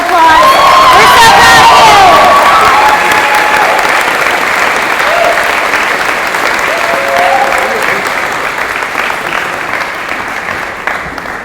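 A large audience at a high school awards ceremony applauds student musicians with loud, sustained clapping and some cheering that fades slowly, while a voice talks faintly underneath.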